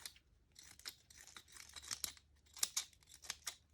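Scissors trim cheesecloth in a string of quick, crisp snips and rustles of fabric, close and fairly quiet, with no talking.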